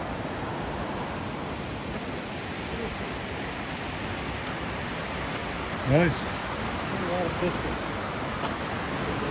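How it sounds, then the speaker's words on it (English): The Pemigewasset River rushes over Livermore Falls in Plymouth, New Hampshire, running high, a loud continuous broadband roar of water filling the scene while a voice briefly speaks over it. "There's the Pemymigewassrt River, Plymouth, New Hampshire, at Livermore Falls. Running good today."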